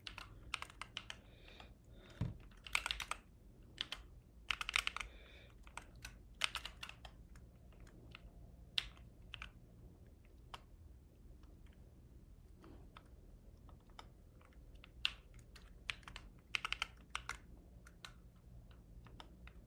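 Typing on a computer keyboard during a live stream: quick irregular bursts of close, crisp key clicks with short pauses between runs, over a faint steady background hum.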